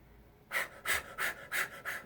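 Kapalabhati yoga breathing, five sharp, forceful nasal exhalations in a steady rhythm about a third of a second apart, close and clear after a short quiet lead-in, with no talk.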